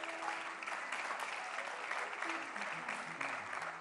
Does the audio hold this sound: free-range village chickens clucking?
no